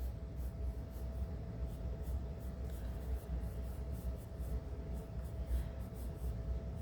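A pencil sketches eyelashes on paper in quick, light repeated strokes, a soft rhythmic scratching heard close but faint over a low background hum.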